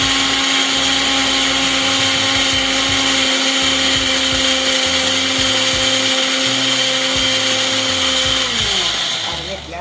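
A mixer grinder whirs loud and steady, grinding a smooth, butter-like paste with a little curd for an okra curry, then winds down in pitch near the end.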